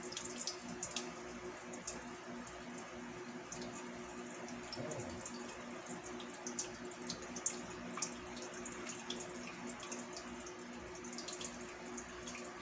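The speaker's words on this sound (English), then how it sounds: "so I'm just going to pour some juice off." Meat juices from a meatloaf pan are poured off, giving a faint continuous trickle and splash of liquid that runs steadily without a break.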